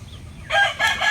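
A gamecock rooster of the Kapsul bloodline from a game farm crows once, loud and close, in a single short burst after a brief quiet moment.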